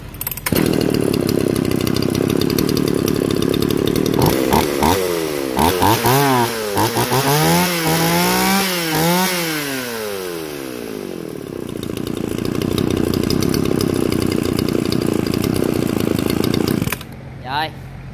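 A nearly new Shindaiwa chainsaw engine runs loudly up close at a steady high pitch, then revs up and down in rising and falling sweeps before settling back to a steady run and cutting off near the end.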